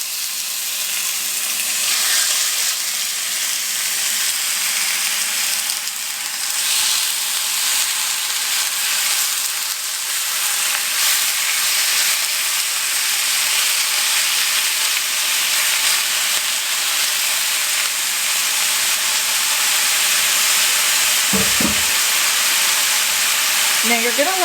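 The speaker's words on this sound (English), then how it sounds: "Now you're going to let this cook until the meat is completely cooked through." Meat frying in olive oil in a hot pan: a loud, continuous close sizzle with steady hissing throughout, and a few faint knocks near the end, with no talk.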